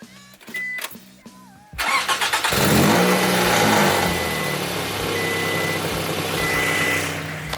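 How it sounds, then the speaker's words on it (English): A car with a Tsudo race header exhaust cranks over and fires up after a few quiet knocks, then settles into a loud, raspy, rumbling idle that carries on steadily to the end. "You can hear the vibrations when you start up the car."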